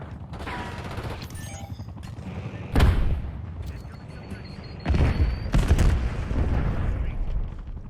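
Frag grenade blasts in the Call of Duty: Black Ops 6 video game: heavy booms at about three and five seconds over steady gunfire and battle noise, with bursts of automatic fire in between.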